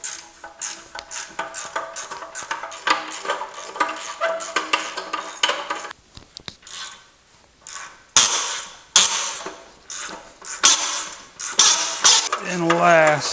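A hand ratchet clicks in quick bursts, loosening bolts on a Chrysler 3.2/3.6 Pentastar V6 during an oil pump replacement, with brief pauses and metallic clinks between the runs.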